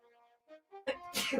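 A single sneeze from a person on a sports talk show, preceded by a few faint short breaths, ending in a sharp close burst.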